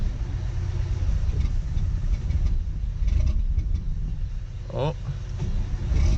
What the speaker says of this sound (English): seems like now we've got enough to crank her over